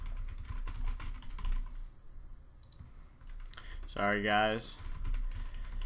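Rapid clicking of computer keyboard typing while writing code in Android Studio, close and fairly soft, with someone briefly speaking over it.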